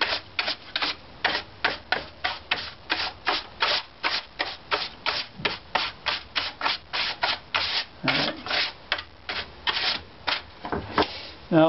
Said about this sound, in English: Now, I'm going to get fancy and use a brush here.